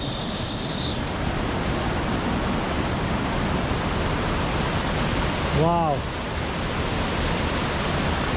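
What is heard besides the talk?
jungle waterfall rushing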